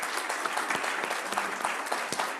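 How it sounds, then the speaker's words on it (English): Short burst of applause from a Kiwanis club meeting audience, brisk and fairly close, many hands clapping in a dense, even patter without voices. "So let's give a great round of applause for Rob"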